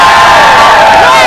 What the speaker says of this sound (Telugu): ఈ చప్పట్లు, ఈ కేరింతలు, ఈ ఉత్సాహం ఇప్పుడప్పుడే ఆగేటట్లేదు